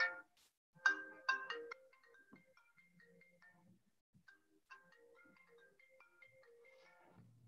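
A borrowed mobile phone rings with a bright melodic ringtone, a few loud chiming bursts followed by a softer tinkling tune, heard alone in a quiet room.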